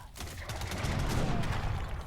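Mortar and musket fire from the Age of Empires 3 video game form a dense, loud, continuous battle din of overlapping gunshots and blasts.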